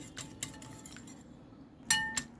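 Whisk clinking against a glass bowl while beating an egg with a little salt and a spoonful of sugar, a few sharp taps scattered, then a louder cluster near the end, fairly close.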